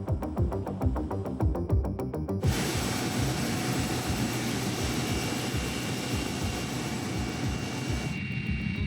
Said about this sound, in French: 2 hélicoptères attendent Arnaud et sa colonne